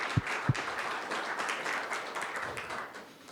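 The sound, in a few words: applause for lecture sponsors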